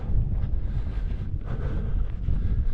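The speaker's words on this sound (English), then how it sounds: "The wind's picked up a little bit, we got a bit more exposed to where we are." Strong wind buffets the microphone on an exposed Lake District fell near Beck Head Tarn, a constant low roaring rumble that rises and falls in gusts throughout.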